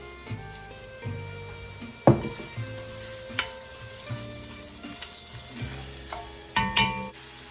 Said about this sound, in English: It is important to cook the onions until they are caramelized and not just sauteed.